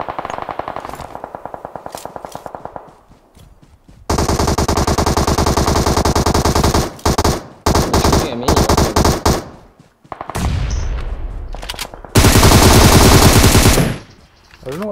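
Rapid automatic gunfire in PUBG Mobile, with loud close bursts and sustained strings of shots broken by short pauses, plus quieter distant fire, while players talk over it.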